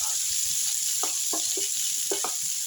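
Bitter gourd frying gently in a pan for pickle; a steady high hiss of sizzling oil with a few soft stirring scrapes and low clunks beneath it.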